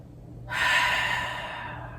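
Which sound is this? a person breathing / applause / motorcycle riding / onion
a person breathing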